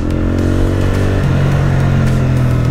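A Benda Napoleon 450 motorcycle engine runs close by, a loud steady throb with its pitch shifting partway through as it is revved on the spot, alone and with no talking.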